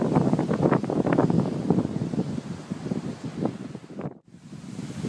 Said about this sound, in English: so we've finally got some wind